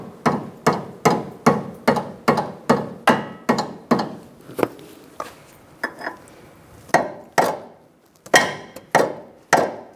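Hammer blows seating a lower control arm bushing on a 2002-2006 Honda CR-V, a rapid even series of sharp close metallic strikes, then a pause and a few slower, more spaced hits.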